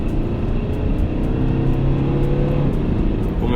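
Mercedes-Benz C220 coupe with a 170 hp engine accelerating in Sport Plus mode, heard as a loud, steady engine drone with a faint rising tone and no talking.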